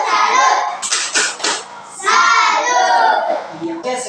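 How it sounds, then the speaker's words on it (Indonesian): Schoolchildren in an Indonesian classroom do a rhythmic salute clap, with a short burst of group clapping and chanting voices between stretches of loud children's talk. "Tepuk salut."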